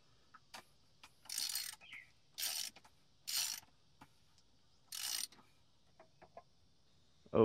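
A ratchet fitted with a 24 mm socket works the oil filter housing loose on a 2018 Jeep Wrangler JK, giving four bursts of rapid clicking with short pauses between them, plus a few scattered metallic taps, close and alone.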